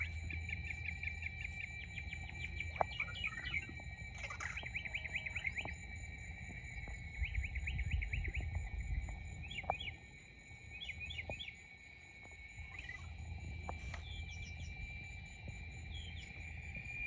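Birds chirp outdoors at sunset in repeated short trilling bursts, fairly faint and spread over a soft background hum, with a few light clicks and knocks in between.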